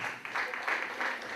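Brief burst of audience clapping at the Miss Artois Bassin Minier beauty pageant election in Harnes, continuous and moderately loud across the short moment.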